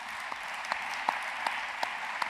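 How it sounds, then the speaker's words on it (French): Faint, distant audience applause for architects Jacques Rougerie and Philippe Madec at the Biomimexpo 2018 event, a soft steady patter with a few sharper claps standing out. "Je vous demande d'applaudir effectivement Jacques Rougerie et Michel Madec, Philippe Madec."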